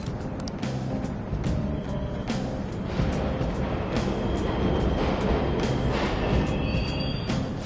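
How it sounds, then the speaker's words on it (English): Subway trains rumble in a Persona 5 Royal game scene, a steady low mechanical drone with faint metallic clatter that holds evenly throughout, with no talking over it. "The trains are totally running!"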